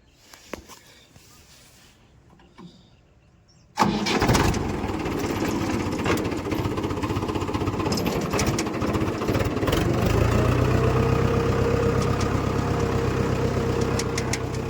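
A tractor engine runs steadily and loudly on a farm, its load of picked cotton aboard, starting abruptly after a few seconds of quiet and holding a constant chugging drone to the end.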